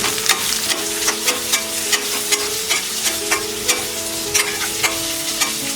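Onions frying for paneer bhurji, a scrambled Indian cottage cheese dish, sizzle steadily in a pan while a spoon stirs and scrapes in repeated close clicks and taps over the continuous hiss.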